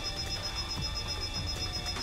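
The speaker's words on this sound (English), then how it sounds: "Amid blaring alarms and blazing red flames" Alarm blaring during an emergency in an animated story, a steady high electronic tone ringing continuously over a dense rumbling background with no talking.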